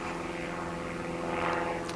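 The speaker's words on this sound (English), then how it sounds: "And here comes an airplane." A propeller airplane drones steadily overhead, a continuous engine hum that swells slightly toward the end, heard alone without talk.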